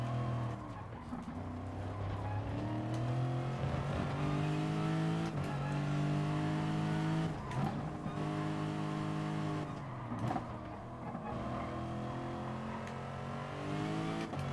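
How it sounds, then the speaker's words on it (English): Race car engine in Gran Turismo Sport, loud and continuous, revving and climbing through the gears with tire squeal and skidding mixed in, no talk over it. "as you push the throttle down further, it sort of gives you that much more power"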